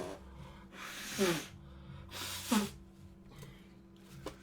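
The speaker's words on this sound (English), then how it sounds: "You're going to hear me blow my nose, people." A person with a blocked nose blows it in two strong, wet bursts, then gives a fainter snort. Close breathing fills the gaps.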